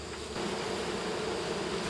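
A colony of bees rescued from a wall hive, a dense close steady buzzing hum filling the moment without pause.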